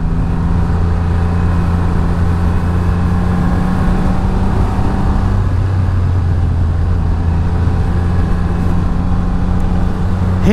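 A Triumph Rocket Triple R motorcycle riding through twisty roads, a loud continuous low engine drone with shifting pitch and wind rumble, heard from on the bike.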